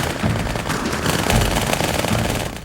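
Dual-wielded automatic guns fire in Halo 2, a dense, continuous stream of rapid shots that stays loud and unbroken for the whole stretch.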